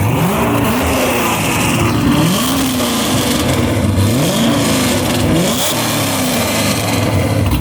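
An LS3 V8 Corvette with aftermarket exhaust and round mufflers revs loudly up close, its deep rumble rising and falling in repeated throttle blips over a steady idle.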